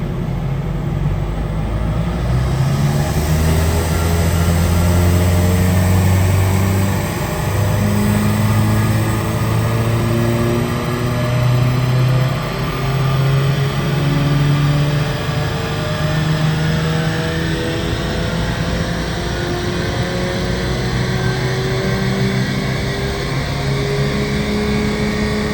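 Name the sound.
Stage 2 VW Golf GTI Mk7.5 engine revving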